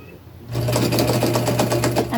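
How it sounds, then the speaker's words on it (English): A sewing machine stitches down a seam on a T-shirt being made into a long-sleeved hoodie, its steady rapid whir starting abruptly after a quiet moment and running loud and close to the end. "I'm going to stop and I'm going to go ahead and sew this down."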